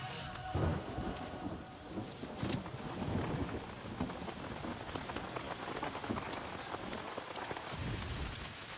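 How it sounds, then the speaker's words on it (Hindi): Steady rain falls on surfaces close by with a dense, hissing patter that holds for several seconds, broken by occasional heavier splashes and a low rumble, and no one speaks. "हाँ यहाँ पर बारिश हो रही है"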